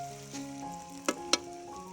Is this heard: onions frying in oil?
yes